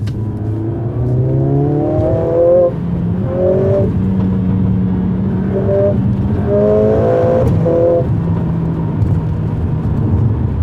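Mercedes-AMG CLA 45 S 4MATIC+ from 2020, driven in race mode, loud close engine accelerating through repeated rising revs with brief dips between gear changes.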